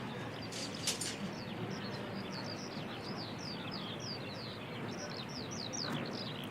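Several birds chirp in quick, high tweets over a steady hiss of background noise, fairly faint and continuous, at Christchurch Airport, New Zealand.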